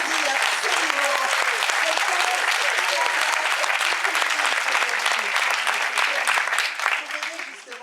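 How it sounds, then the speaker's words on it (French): Loud, lively audience applause in a hall, dense continuous clapping that stays strong throughout, with voices and cheering mixed into the crowd noise. "On applaudit absolument."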